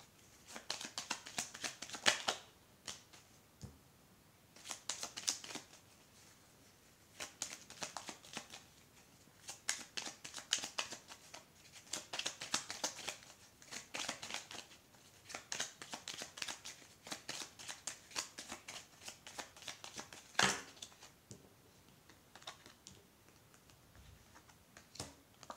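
Tarot cards being laid out in a second row, soft papery slaps, slides and shuffling in irregular bursts, close and quiet, with pauses between handlings.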